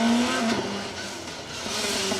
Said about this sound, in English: TR7 V8 of Anthony Windle and John Henley is bringing all of the V8 soundtrack to the Lincolnshire Wolds this afternoon.